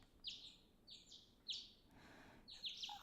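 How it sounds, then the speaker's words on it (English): Birds chirp in a morning scene from the video game Piofiore, with a few short, bright tweets coming in separate bursts over a faint background. No one speaks. "I woke up to the chirping of the birds."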